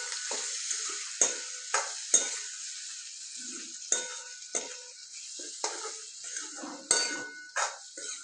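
Green bell pepper and besan curry being stirred in a pan, with repeated scraping and clinking strokes of a spoon against metal over a soft background sizzle, close and fairly clear.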